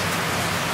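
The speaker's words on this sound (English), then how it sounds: "Since it's raining outside today" Steady rain falls outside in a dense, even hiss of drops, continuous and fairly close, with no voices.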